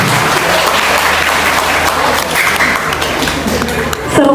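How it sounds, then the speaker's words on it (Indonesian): Hearty applause from the audience at an evening film discussion event, honouring two speakers; dense, steady clapping fills the room at close range with some voices mixed in. "Beri tepuk tangan yang meriah untuk dua pemateri malam hari ini."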